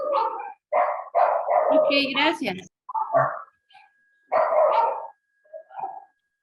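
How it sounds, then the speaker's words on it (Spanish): Dogs bark nearby in a series of sharp, repeated barks with some yips, picked up through an online acupuncture class's microphones, while a person says a few words in Spanish. "sus micrófonos, escuchan unos perros por ahí"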